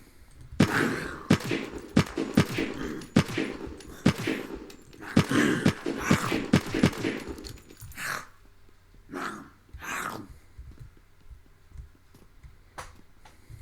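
Automatic weapon fire in the Unturned video game, a loud rapid run of shots in close succession, followed by a few slower, spaced bursts.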